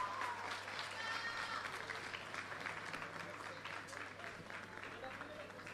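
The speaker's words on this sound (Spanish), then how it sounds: "ese aplauso con más fuerzas y ganas para quien ha dado inicio a esta gran gala esta noche" An audience at a talent show gala final at a casino in Valdivia applauds steadily, a continuous wash of clapping heard at moderate distance with faint voices mixed in and a low hum beneath.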